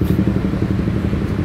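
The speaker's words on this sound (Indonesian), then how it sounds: "Kenapa sih orang-orang motornya hobi banget pakai knalpot berisik?" A motorcycle fitted with a loud aftermarket exhaust rumbles steadily with a low, rough, sputtering roar, close and continuous throughout, with no voices.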